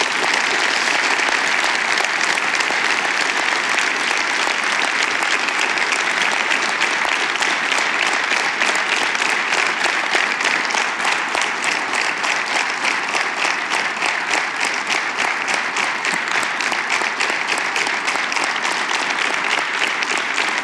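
Sustained, dense applause from a large audience at a Norwegian party congress, loud and continuous with fast rippling claps throughout and no pause.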